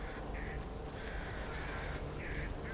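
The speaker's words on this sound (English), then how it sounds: "So by alerting these birds, this is gonna summon more zombies than usual." Infected birds in the zombie shooter Back 4 Blood squawk and caw in short repeated harsh calls over a loud, dense background of game noise.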